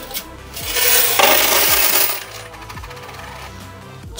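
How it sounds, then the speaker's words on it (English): A large batch of arcade coins pours into a coin scale, a loud, dense metallic rush that swells for about a second and a half and then settles into scattered clinks. "Let's pour it into our coin scale."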